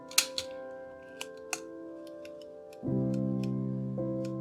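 An Olympus 35 RC rangefinder camera gives a few sharp mechanical clicks and ticks, then a steady whirring tone begins and continues, close and clear with no talking.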